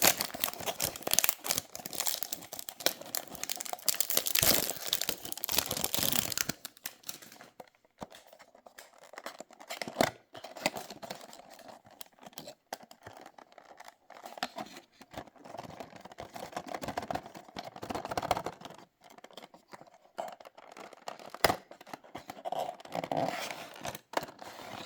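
Packaging for a small model car trailer is opened, giving close, quiet crinkling, tearing and rustling of plastic and cardboard that comes in irregular bursts with short pauses, and no one talks.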